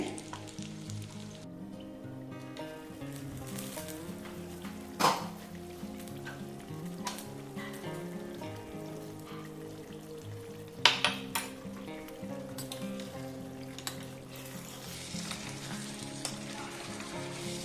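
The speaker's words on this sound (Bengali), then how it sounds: "এক দু মিনিট একটু ভেজে নেব" Paneer fries in a pan with a steady, soft sizzle that runs throughout. Occasional stirring scrapes and light clinks of a utensil against the pan are heard close up, with no talking.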